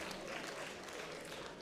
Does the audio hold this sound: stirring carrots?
no